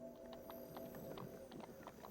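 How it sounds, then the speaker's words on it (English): Horses pulling a carriage in the video game Hand of Fate 2 clop along in a steady, rhythmic hoof patter, faint behind a constant humming game background. "that's the horses pulling this carriage"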